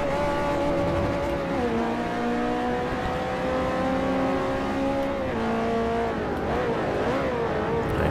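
Race cars in Forza Motorsport 4, during an S-class multi-class event, whine steadily at high revs, with engine pitch shifting as slower class cars are passed, loud and continuous throughout.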